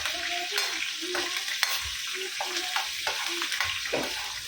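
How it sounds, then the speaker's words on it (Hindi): Curry leaves and green chillies crackle and sizzle steadily in hot oil as a tadka for a pomfret fish thali, with a constant frying hiss and scattered pops and stirring scrapes throughout. "अब इसको ज़रा तड़कने देंगे अच्छे से।"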